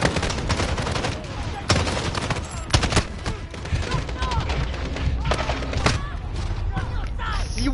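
Sustained gunfire in the Modern Warfare campaign video game: dense rattling automatic bursts and sharp single shots crackle continuously, with voices shouting over the fight.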